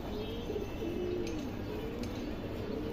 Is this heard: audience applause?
no